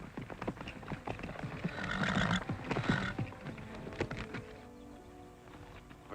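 A horse whinnies loudly while hooves clip-clop in a quick uneven rhythm nearby, the neigh rising in the middle before the hoofbeats thin out.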